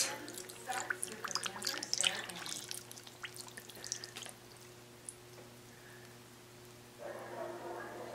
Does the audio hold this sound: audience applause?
no